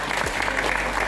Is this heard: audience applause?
yes